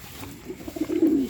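Pet pigeons or doves cooing softly at close range, a brief low throaty coo that swells louder toward the end over faint background noise.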